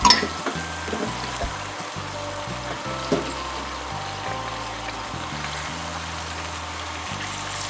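Sauce thickened with potato starch stirred in a pan for Chinese takeaway chicken and mushroom, a steady sizzling, bubbling simmer with soft scraping stirs throughout, no talking.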